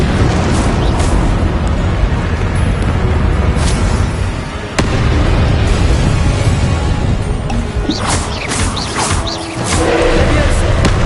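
Confringo fire-blast spell explosions in Hogwarts Legacy amid constant combat noise: a loud, dense roar with sharp crackling bursts and a sudden hit near the middle, continuing busily to the end.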